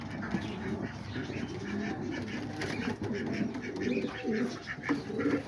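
Homing pigeons coo softly and steadily in a loft alongside young birds, a continuous murmur of low calls with bird chatter layered over a constant background hum.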